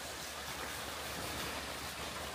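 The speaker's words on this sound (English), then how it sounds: "I got to cross this stream" A stream on the Appalachian Trail flows as a steady broadband rush of water, close by and continuous, with no voices.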